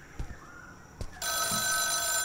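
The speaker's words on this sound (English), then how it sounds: "No, oh my god, this dang phone." An old-style telephone bell rings in a horror video game, a couple of short knocks first, then a loud, sustained electronic ring filling the end of the short stretch.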